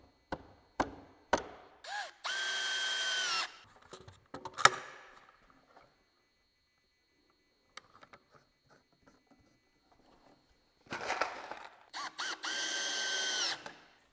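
Short bursts of a power drill driving screws into a shelf inside a tool trailer, with clicks and knocks of handling between the bursts and a quiet pause in the middle.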